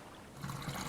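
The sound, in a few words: fuel pouring from a barrel, video game Stranded Deep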